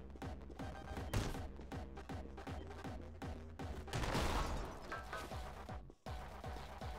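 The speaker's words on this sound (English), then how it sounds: "These explosions around me" Explosions and gunfire from the video game Anger Foot, heard as dense, rapid bursts of shots and booming blasts layered over a steady game music bed, loud and continuous for the whole stretch with one brief dropout near the end.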